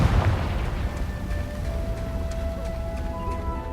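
A Confringo blasting spell goes off in Hogwarts Legacy, opening with a heavy booming explosion that rolls into a sustained rumbling tail, with faint tonal game effects ringing over it and no talk.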